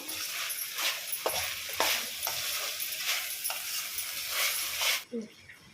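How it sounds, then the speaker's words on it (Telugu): Pasta with sweet corn fries in a pan, giving a steady close hiss of sizzling with scraping stirs every second or so, before it suddenly quiets near the end. "స్వీట్ కార్న్ కూడా యాడ్ చేసుకున్నాము. బాగా ఫ్రై చేసుకుందాం కొంచెంసేపు."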